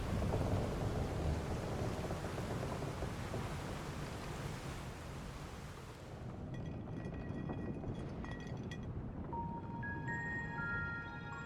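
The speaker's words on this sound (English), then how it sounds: "There's a storm brewing." Stormy weather in Final Fantasy XIV Dawntrail: steady, loud rain and rolling thunder rumble fill the first six seconds, then the storm continues beneath bright, tonal game music and chimes.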